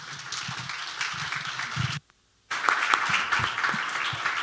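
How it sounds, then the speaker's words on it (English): An audience claps for the panelists at the close of a 2022 regional clusters conference day in Croatia: a steady, dense patter of hands that cuts out briefly midway, then resumes just as full. "let's have a round of applause for all the panelists."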